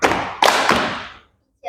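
A group claps the 'tepuk beat one' rhythm, three sharp close claps in quick succession that ring out and fade, followed by the start of a voice.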